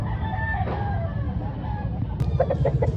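Roosters crow repeatedly amid a noisy crowd of clucking fowl at a chicken expo in Consolacion, Cebu, several calls overlapping at close range.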